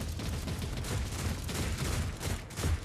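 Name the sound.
autocannon turrets firing in Warhammer 40K Rogue Trader video game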